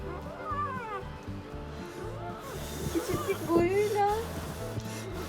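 A large cat meowing in a caravan, with several rising, wavering cries against background clatter and nearby human voices.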